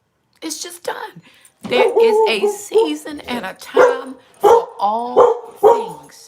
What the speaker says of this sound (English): I apologize for the dog. Somebody rang the bell.